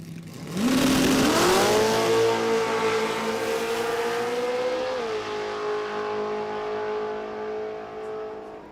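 Small-block radial drag race cars roar off the line at a Kenda 660 Radial Series event, a loud rising engine wail that climbs, holds high, then shifts and fades slightly as they run down the strip.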